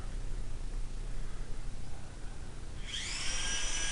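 Syma X5SW quadcopter drone motors spin up after about three seconds of quiet background hiss, giving a high, steady whine that holds to the end.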